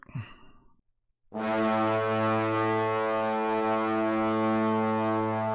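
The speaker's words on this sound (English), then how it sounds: "Now let's put the decapitator on there, same way again, and we'll get this sort of effect." After a brief pause, a huge sustained cinematic brass braam processed through a Decapitator distortion plugin swells in, thick, gritty and distorted like a foghorn, holding loud and steady to the end.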